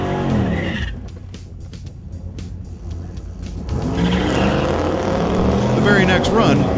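A 1995 Pontiac Trans Am V8 does a burnout at a drag strip, a loud, roaring engine with tire squeal and skidding that builds toward the end, with talk over it.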